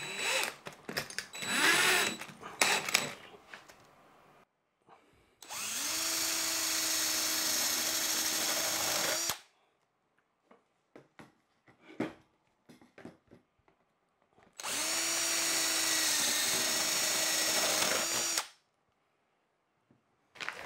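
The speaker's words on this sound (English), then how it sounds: "I don't have a 12 millimeter drill bit, but I do have a spade bit" Two long, loud bursts of a power drill boring steadily with a spade bit, each lasting several seconds, separated by clattering and handling noises.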